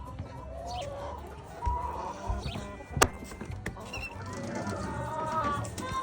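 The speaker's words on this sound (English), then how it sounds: "This is where our chickens live." Chickens cluck and call inside a farm chicken coop, several birds at once with overlapping clucks at close range and one sharp loud squawk midway.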